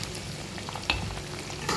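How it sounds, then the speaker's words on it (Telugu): Food frying in a pan for a homemade curry, a steady soft sizzle and crackle with a brief clink of stirring partway through, fairly quiet and with no talking. "ఇవి కూడా అలాగే వేయించుకోవాలి"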